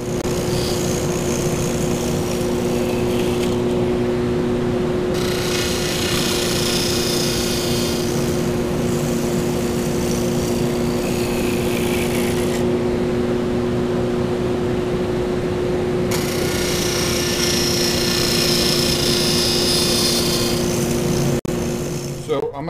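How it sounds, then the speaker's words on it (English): A scraper works a Baltic birch plywood bowl spinning on a lathe, with a steady motor hum under bursts of rough scraping that start and stop in several long passes. "I'm going to use my scraper to smooth it out"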